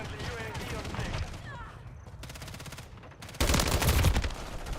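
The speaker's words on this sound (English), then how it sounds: "Those shotguns are mental." Shotguns blast in rapid, loud bursts during Call of Duty MWZ zombies gameplay, a dense volley at the start and another heavy burst near the end, with voices talking over the action.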